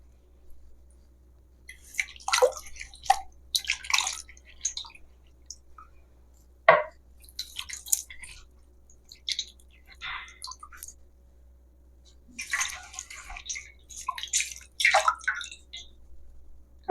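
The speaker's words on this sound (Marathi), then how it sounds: "म्हणून तुम्ही स्वच्छ आंबे धुवून घ्या पहिला" Mangoes are washed by hand in water, giving bursts of close splashing and dripping in uneven clusters, separated by quiet pauses and one brief sharp knock.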